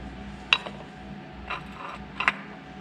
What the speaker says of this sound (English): So we're gonna loosen this nut here, and then we'll pull this stuff out.